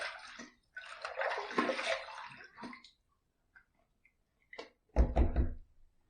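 Running water splashes as a Parker safety razor is rinsed after a shaving pass, a sustained hiss followed by a gap and then a few sharp knocks of the razor against the sink.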